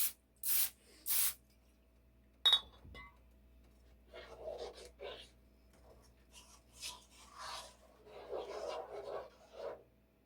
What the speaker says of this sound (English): I'm going to spray my wax paper